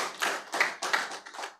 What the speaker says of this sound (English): let's give them a hand clap of appreciation